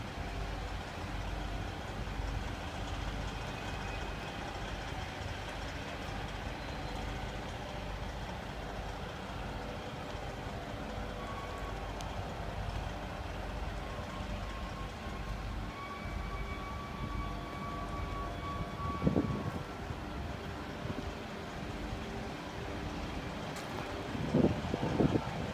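A 2008 Peterbilt 388 highway tractor's diesel engine idles steadily at close range, a low continuous rumble with a couple of brief clunks near the end.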